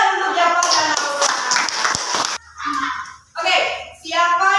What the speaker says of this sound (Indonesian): tepuk tangan untuk Jafar dan Aura.